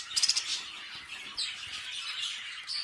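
A pet budgerigar gives a quick run of bright chirps up close, then lighter twittering and a brief flutter of wings, fairly faint in a quiet room.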